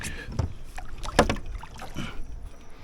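Kayak on the water in Everglades National Park during bass fishing, backing up with soft paddle splashes and water swishing, faint and close, with light wind noise and no talking.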